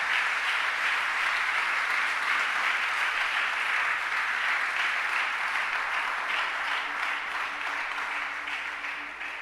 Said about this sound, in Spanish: dele un fuerte aplauso al Señor en esta hora